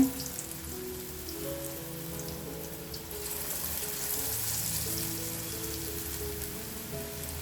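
Ridge gourd bajji batter fries in hot oil with a continuous, even, crackling hiss that stays close and steady throughout, with no voices.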